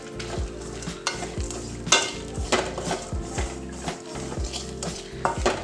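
Dried red chillies roast with spices for a kadachakka (breadfruit) kootu masala in a pan, giving a low sizzle broken by repeated scraping and clinking strokes of a spoon stirring against the metal, close and fairly loud.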